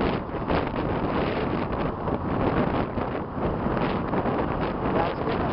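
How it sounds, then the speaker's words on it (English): Strong outdoor wind buffets the microphone in a steady, loud, rumbling roar that lasts throughout, with small gusty swells and no clear speech. "it's getting a little windy on these legs"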